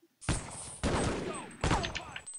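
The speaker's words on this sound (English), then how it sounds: "What the hell are you two shooting at?" Marines firing guns in the shooter game Half-Life: Opposing Force, three loud sustained bursts of rapid gunfire separated by brief gaps, close and sharp.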